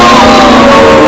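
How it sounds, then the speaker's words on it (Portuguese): A large crowd roars and jeers in a radio drama riot scene set in Rio de Janeiro, a loud, dense, unbroken wall of massed voices filling the whole moment. "Em todos os cantos ouvimos vaias"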